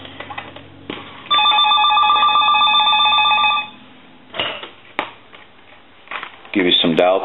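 A Sitel Italian telephone rings on its low setting, a sustained electronic warbling burst of a couple of seconds, loud and close, followed by handling clatter and brief talk.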